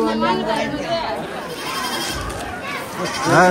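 Small young goats bleat on a farm in wavering, quavering cries at the start and again near the end, while people talk nearby.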